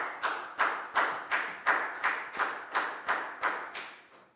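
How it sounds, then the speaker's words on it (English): A class claps for a student in a primary school maths lesson, about ten loud, sharp, evenly spaced beats in a steady rhythm, close by and without talk. "High five and a big round of applause for Lakgao,"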